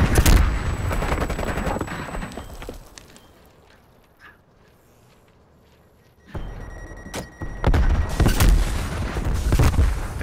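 Gunfire from the video game Call of Duty: Black Ops Cold War, loud rapid automatic bursts and heavy shots that drop to a near-silent lull midway before the firing resumes intensely.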